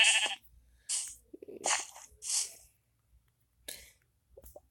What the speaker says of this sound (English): If I find a sheep, oh, there goes sheep.